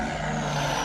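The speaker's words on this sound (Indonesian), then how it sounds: "Suara truk merah yang meraung-raung memekakan telinga" Loud, continuous roar of an old red truck engine crawling along a road while puffing thick black smoke, a steady drone with a sustained whine on top and no voices.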